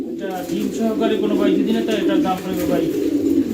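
Kashmiri racer pigeons coo in low, throaty rolling phrases, close and fairly loud, blending into a steady murmur that runs through the whole stretch.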